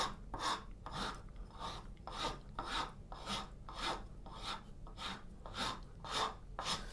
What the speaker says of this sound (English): you can use the rasp to really get the work in